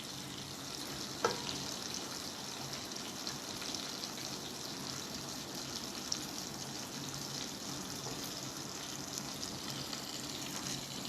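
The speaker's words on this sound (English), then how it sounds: "You can see the sizzle is coming." Paneer sizzles and crackles steadily as it fries in a pan, a continuous soft hiss with a couple of faint taps from stirring, moderately quiet and without talk.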